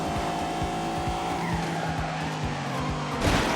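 A big car in The Grand Tour Game launching hard, reaching 60 in 3.4 seconds: a loud revving engine roars steadily with rhythmic gear pulses and tire squeal, building to a skid at the end.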